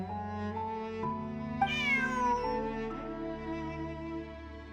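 Cat meowing in Genshin Impact, one clear drawn-out meow rising and falling over a sustained soft musical backdrop, close and distinct with no voices.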